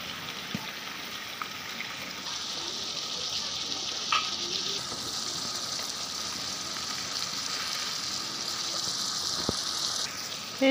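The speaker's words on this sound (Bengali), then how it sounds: "টমেটোগুলো ভালো করে কষিয়ে নিতেছি" Tomatoes sautéing in a pan for a fish roe curry, a steady broad sizzle running the whole time with a brighter hiss swelling in the middle and a few faint utensil taps, no talking.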